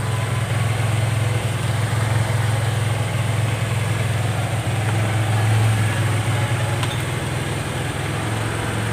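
Honda motorcycle engine idling unevenly, its rough idle rising and falling on its own, a steady low rumble running close and continuous throughout.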